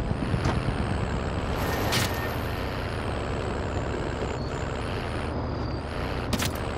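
A heavy truck engine in the video game Call of Duty: Warzone rumbles steadily throughout, with a few brief higher mechanical squeals and hisses over the drone; no talking.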